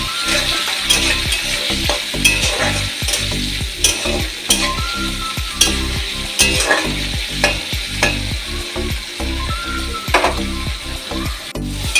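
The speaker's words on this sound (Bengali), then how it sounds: "এবার আমি এটাকে ভালো করে ফ্রাই করে নেব" Tomato, cashew and green chili fry loudly in a pan, a dense steady sizzle broken by frequent scraping stirs and clattering strokes of a spatula, close and continuous with no talk.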